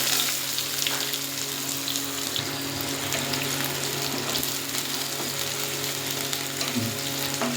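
Chopped onion frying in a pan for a doi tora fish curry, a loud, steady, continuous sizzle that holds evenly throughout with no voices.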